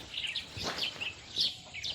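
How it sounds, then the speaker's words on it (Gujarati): Birds chirp around a rural village, with a series of high, quick tweets and short calls sounding at moderate distance against quiet background noise. "પંખીના કલરવથી સવાર થતી હોય અને પંખીના કલરવથી સાંજ થાય છે"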